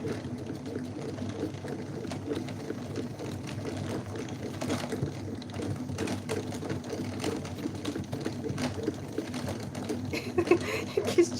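A wool winder reels yarn in a steady mechanical whir with a rapid rhythmic ticking throughout, close and even, faint voice-like murmurs beneath.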